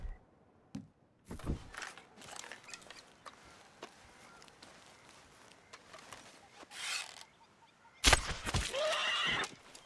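A horse in the video game Red Dead Redemption 2 gives a loud, drawn-out whinny near the end, preceded by scattered rustles, soft hoof and gear noises and short bursts of sound, close by, with no voices.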